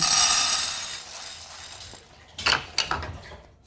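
A metal frying pan scrapes and clanks on a fire while roasting soya beans, with a few sharp clinks after a soft hissing start.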